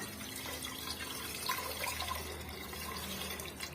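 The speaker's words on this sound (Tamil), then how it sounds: "இப்போ சாம்பாருக்கு தேவையான அளவுக்கு நம்ம தண்ணி வந்து சேர்த்து விட்டுக்கலாம்" Water is poured into a pot of drumstick sambar being cooked in a home kitchen, giving a steady, continuous trickling and splashing at close range that holds for the whole stretch.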